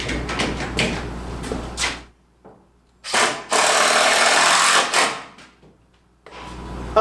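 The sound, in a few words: power drill driving drywall screws into OSB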